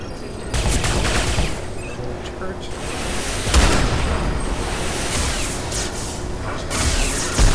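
Rapid secondary-fire bursts from a weapon in the shooter Sin Episodes: Emergence, a dense, loud stretch of repeated shots and booms that runs almost without a break over continuous game noise.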